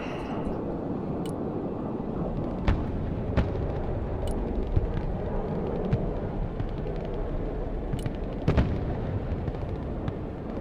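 Distant mortar rounds from an 81mm barrage in the Broken Arrow war game thud and crack at irregular intervals over a dense, steady rumble of battlefield noise, with a few sharper bursts standing out near the end.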